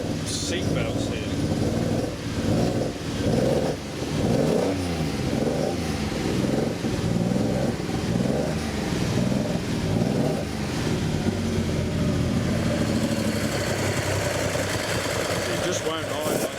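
An old car engine runs unevenly, its low throbbing beat surging and sagging as it struggles to hold an idle, with a voice talking over it throughout.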